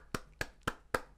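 Four slow, evenly spaced hand claps from a single nearby clapper, applauding the winner of a round of Minecraft Survival Games.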